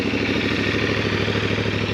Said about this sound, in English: So I'm gonna let that warm up a little bit before I start revving.